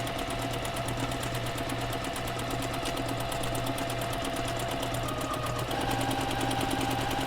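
A sewing machine stitches along the inner serged seam of a shirred dress to form an elastic casing, giving a steady, close, continuous mechanical whir with a fast rhythmic needle pulse and no talking.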